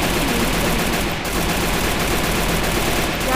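Steady gunfire in the mobile battle-royale game Free Fire, a dense unbroken stream of rapid shots filling the whole stretch at constant loudness, with no talk over it.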